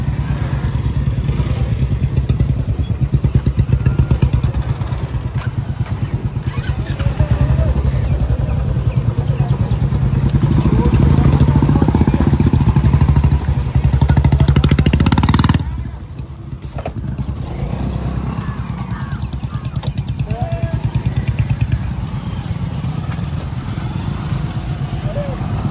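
A motor launch's engine drones steadily at close range on the Godavari near Narsapur, with rattling clatter and people talking over it. The engine note drops noticeably partway through.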